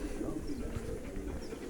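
Racing pigeons coo close by, their soft, low, throaty calls overlapping continuously through the short stretch over a steady background murmur.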